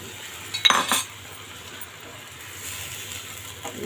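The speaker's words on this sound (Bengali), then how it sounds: "এখন আমি এই ডিমগুলো এর ভিতরে দিয়ে দিব" Fried eggs go into egg korma gravy in a pan, with a brief clatter of a utensil against the pan near the start, then a soft sizzle and a faint scrape near the end.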